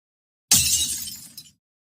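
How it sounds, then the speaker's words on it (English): Glass shatters in a single loud, close crash, followed by about a second of tinkling debris that ends in a small final clink, with silence before and after. "search for a glass break sound effect in the search bar"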